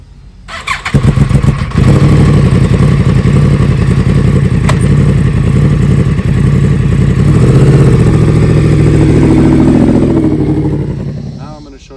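A motorcycle pulls away with the clutch let out slowly, engine rising from a low idle into a loud, sustained close rev that holds steady for several seconds before easing off near the end.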